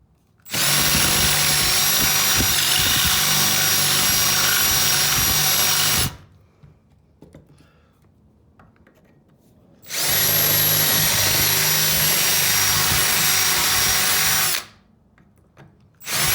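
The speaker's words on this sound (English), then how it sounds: "You just need to drill enough to actually be able to break the rivet." Power drill boring out a rivet on a Buick Grand National catalytic converter exhaust hanger, two loud sustained bursts of about six and five seconds separated by a quiet pause.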